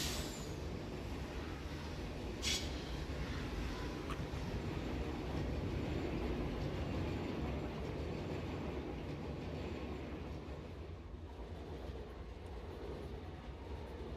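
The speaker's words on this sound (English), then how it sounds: "I just want to see the train make it back to the station" A train in the Satisfactory video game rolls back into its station with a steady, loud rumbling rattle and a brief high screech early on, then eases slightly quieter toward the end.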